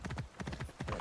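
Horse hooves clip-clop in quick, steady rhythm in Assassin's Creed Origins, close and clear, a galloping gait of repeated thuds with no talk over it.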